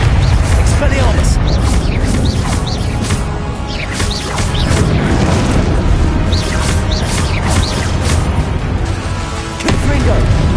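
Repeated Confringo blasting-spell explosions in Hogwarts Legacy, a dense barrage of booming bursts and crashes over constant low rumble, loud and close with voice-like sounds mixed in throughout.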